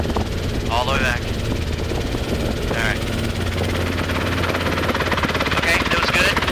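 A Robinson R22 helicopter in flight during autorotation training gives a loud, constant rotor and engine drone, with an instructor and student talking over the intercom throughout.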